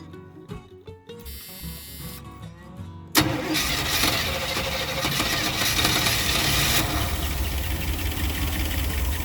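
An abandoned camper van's carbureted engine, sitting unused for years, cranks after a short pause, fires up abruptly, then runs at a steady rough idle with rising rumble, close and loud, no talk.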